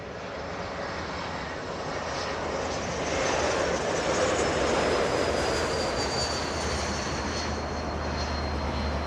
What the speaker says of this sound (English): That is an unbelievably rare north departure by American Airlines